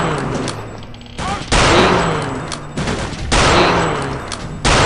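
Bursts of rapid automatic gunfire in a shooter video game come in loud, dense volleys separated by brief lulls, with a voice talking over them.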